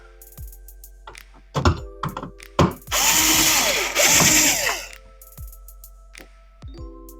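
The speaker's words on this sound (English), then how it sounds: "We'll screw these in." A power drill driving screws into an arcade cabinet: several short whirring bursts, then a longer steady run of about two seconds, close and loud, with quiet pauses between.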